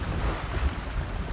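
Strong wind roars over the microphone aboard a double-reefed Catalina 22 sailing close hauled in about 17 knots, with water rushing along the hull in a steady, loud, unbroken wash.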